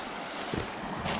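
Water of a river in Ome, a wooded town on the edge of Tokyo, rushes steadily over rocks in a short, close, broadband wash with a couple of small splashy swells and no voices.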